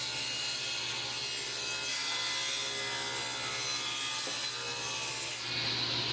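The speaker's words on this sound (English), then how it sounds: "I figured they'd be more accurate on the table saw, so I went over there and cut them instead." A table saw cuts wooden tambour strips for a roll-top bread box, a steady loud whine of the spinning blade with a constant gritty buzz of wood being fed through, close and continuous, with no talking.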